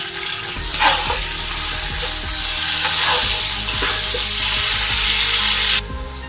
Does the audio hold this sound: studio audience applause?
no